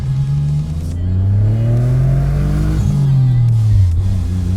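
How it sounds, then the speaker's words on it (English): A Mitsubishi GTO twin-turbo, a 1990s Japanese sports car fitted with an aftermarket exhaust, revs up loudly nearby, its engine note climbing and falling in smooth sweeps, with a throaty exhaust tone and no talking. "Even with an aftermarket exhaust that from the outside sounds really mean, really aggressive."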